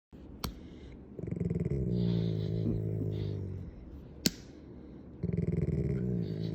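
A gentle pet dog growls and rumbles low during siblings' horseplay, in two sustained bouts with a brief pause between, fairly close and moderate, broken by a couple of sharp clicks; no talk.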